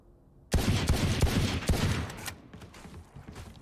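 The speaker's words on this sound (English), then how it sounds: "shots all over the place with the Sheriff" Rapid burst of Sheriff pistol gunshots in the Valorant video game, a dense cluster of sharp cracks starting abruptly and tailing into scattered echoing shots, loud and close.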